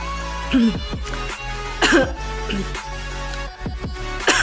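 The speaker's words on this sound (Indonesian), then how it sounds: "Aduh, batuk ya." A few short, sharp coughs with quiet gaps between them, close to the microphone and with no talking.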